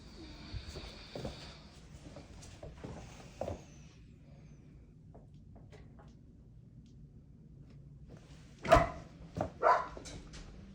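A dog barks a few times at a distance in a quiet room, faint at first, then three louder sharp barks near the end, with low background noise.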